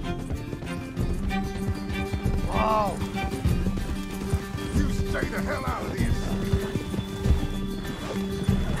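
Horse galloping in Red Dead Redemption 2; rapid rhythmic hoofbeats throughout, with a couple of whinnies, close and steady, while someone talks over it.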